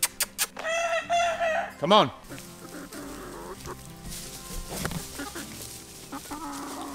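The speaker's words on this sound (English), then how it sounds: "The roosters are learning to crow." Chickens and young roosters on a farm cluck and crow, with a strained, wavering crow from an inexperienced rooster amid sharp clucks, close by, while a person speaks briefly.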